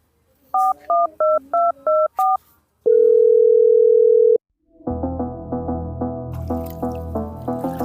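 Six short keypad tones beep in quick succession on a phone, followed by a long steady tone and then a repeating ringback pattern as the call connects.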